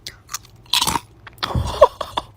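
Someone crunching on cereal flakes with sugar-coated raisins, a few close, loud bites and chewing crunches in short irregular bursts.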